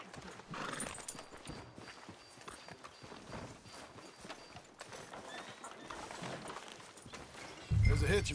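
Horse hooves clip-clop at a steady walking pace in Red Dead Redemption 2, riding through a town street, moderately loud with a whinny, background ambience and voices speaking over it.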